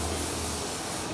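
Aircraft flying overhead doing loops, a steady, fairly loud engine drone with broad roar heard alone for a brief moment.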